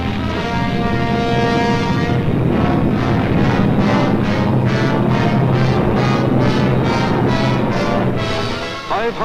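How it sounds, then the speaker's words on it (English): WWII German bombers and Messerschmitt fighters roar over the English coast, a loud, dense, continuous engine drone with a pulsing, throbbing beat that swells and holds steady throughout. "German bombers and Messerschmitt fighters roared over the English coast"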